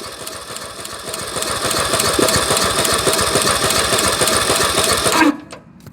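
The small engine of a budget mudding lawn mower runs loud and close with a fast, steady rattling drone, then cuts off abruptly near the end, leaving near silence.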